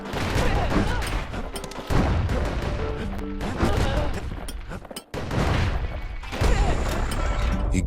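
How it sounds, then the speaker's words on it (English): Repeated booming blasts of a mortar firing at rattletails in the Bastion video game, thudding explosions in quick succession with crashing impacts and short pauses between volleys. "I found the mortar to be the quickest way to get rid of them."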